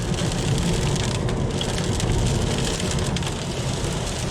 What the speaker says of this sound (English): Yeah, more rain again.